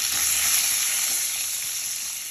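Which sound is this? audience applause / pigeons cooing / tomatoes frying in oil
tomatoes frying in oil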